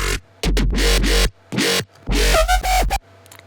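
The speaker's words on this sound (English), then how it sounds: "especially the last part of the bass drop sounds like this" Heavy electronic bass drop from a remix built in Ableton, booming in loud bursts with short gaps, ending in a wobbling, pitch-bending phrase.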